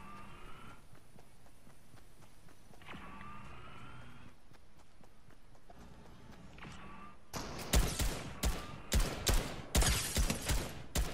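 Video game gunshots: a quiet ambient stretch with faint rising whistle-like tones, then a string of sharp, punchy bursts arriving in irregular rapid clusters toward the end.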